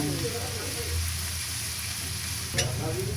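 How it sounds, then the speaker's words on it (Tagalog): Garlic sautés in melted butter in a pan for buttered garlic shrimp, giving a steady soft sizzle with brief stirring, heard alongside a voice talking. "Nagtunaw na po ako ng butter. And then, igigisa ko na po itong bawang."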